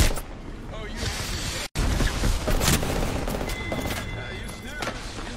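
Gunfire from a firefight in the video game Apex Legends, dense continuous bursts and rattling shots running throughout at close range, with one brief dropout in the middle.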